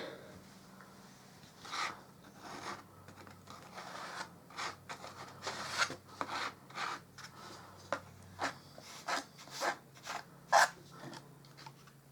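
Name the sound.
spreading plaster on a wall with a small spatula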